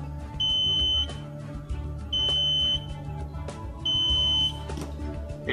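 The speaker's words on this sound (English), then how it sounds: "It will keep on buzzing until someone attends the patient." A shrill electronic patient-alert buzzer beeps in three long pulses, evenly spaced, over a constant low background hum.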